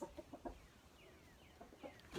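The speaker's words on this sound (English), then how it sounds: "That's one of the roosters." Rooster clucking and squawking in short bursts at moderate distance on a farm, a few calls near the start and again toward the end, with faint birdsong behind.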